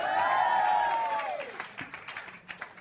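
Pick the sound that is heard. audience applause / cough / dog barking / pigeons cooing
audience applause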